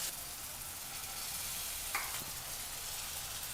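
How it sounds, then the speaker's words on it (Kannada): Ground masala paste fries in a pan for masala chitranna, giving a soft, steady sizzle with a faint stir scrape near the middle. "ಈ ಮಸಾಲ ಪೇಸ್ಟನ್ನು ಚೆನ್ನಾಗಿ ಫ್ರೈ ಮಾಡ್ಕೋಬೇಕಾಗತ್ತೆ"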